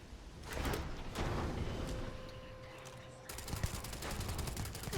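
Gunfire from the Ryujin compact weapon in the video game Starfield: bursts of rapid shots in a noisy game soundscape, with a dense rattling volley toward the end.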